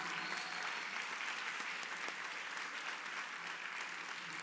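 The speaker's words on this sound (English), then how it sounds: "Give them a round of applause." Concert audience applauding all-region orchestra students at a school winter orchestra concert, a continuous, even wash of many hands clapping, faint and distant in the hall.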